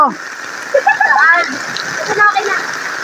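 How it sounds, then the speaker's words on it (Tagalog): Steady heavy rain hisses and patters on surfaces at a beachside lechon cookout, with a voice speaking briefly over the downpour. "lumakas ang ulan"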